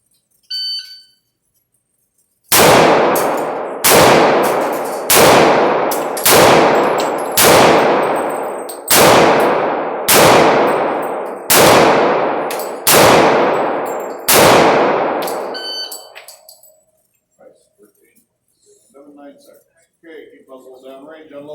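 Indoor Glock pistol match: roughly ten loud, evenly spaced shots ring out about every 1.2 seconds, each ending in a long metallic ring as the steel targets are struck, followed by quieter handling noises and some speech.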